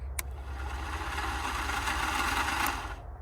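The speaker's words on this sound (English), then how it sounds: "Starter's just spinning, it's not shooting out" On a 1981 VW Rabbit that won't start, the starter motor spins with a steady, close whirring drone, without the engine catching, after a brief click at the start.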